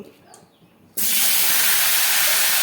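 Potatoes dropped into hot mustard oil in a wok for a soyabean curry: after a quiet start, a sudden loud, broad sizzling hiss bursts in and holds steady.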